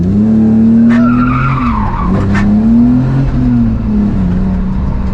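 Cheap BMW drift car sliding, its tires squealing in long wavering tones over a loud droning engine, with brief higher screeches rising and falling through the slide, close and continuous.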